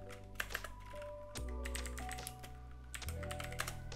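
Steady rapid typing on a computer keyboard while naming a new folder for a Minecraft texture pack, crisp close keystrokes over a low constant hum from the computer.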